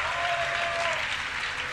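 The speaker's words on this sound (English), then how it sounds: "If you'd like him to advance, give a cheer for Startail July!" Audience cheering and applauding at a Dreamhack Summer StarCraft semifinal, a dense, steady wash of clapping and crowd noise with a faint tonal whine running through it.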